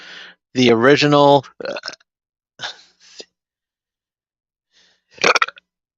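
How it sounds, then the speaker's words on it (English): A man lets out a loud, drawn-out burp, followed by a few shorter throaty bursts and a final short burp after a pause, close to the microphone. "I got the burps."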